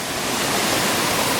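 Small waterfall on a side creek along the Coomera Circuit in Queensland, a steady close rush of falling water filling the whole moment, with no other sounds.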